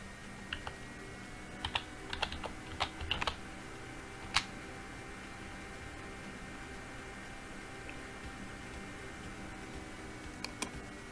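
Assembly code being typed on a computer keyboard in notepad, giving sparse, soft key clicks in short irregular clusters over a steady low hum, with a few sharper taps standing out.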